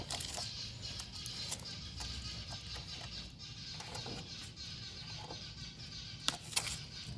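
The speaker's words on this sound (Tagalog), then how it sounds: "Daming ibon oh." Many birds, including chicken-like clucks, chirp and call outdoors over a steady background hum, with a few sharper calls near the end and no talking.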